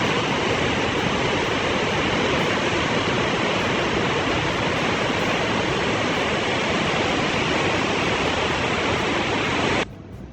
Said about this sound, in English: massive waves flood coastal towns around San Francisco, Monterey, and Big Sur coasts